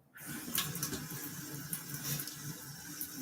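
Tap water runs steadily into a pot, a continuous close splashing rush that starts abruptly and keeps going.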